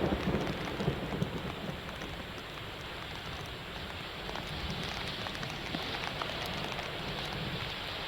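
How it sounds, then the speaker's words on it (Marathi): Heavy, continuous monsoon downpour in Maharashtra, a dense and steady hiss of rain on surfaces that stays even throughout, with no voices. "पावसाची संततधार सुरू आहे।"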